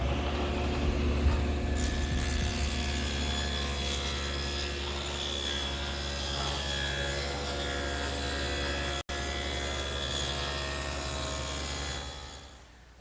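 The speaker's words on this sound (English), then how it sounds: "I've set up the table saw with a dado blade, which can be adjusted for varying widths" Table saw fitted with an adjustable dado blade cutting a quarter-inch-wide, half-inch-deep groove centred in a piece of wood stock, a steady loud whine and roar running continuously before tapering off at the end.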